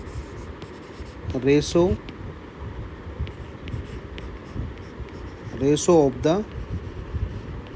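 Pen or marker writing a definition by hand, two short bursts of scratchy strokes close to the mic, under steady talk in Hindi.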